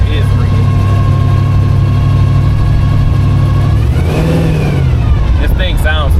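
A 1934 Ford's engine runs loud and close, holding a steady idle before revving up and dropping back in one surge, with a rough low rumble throughout.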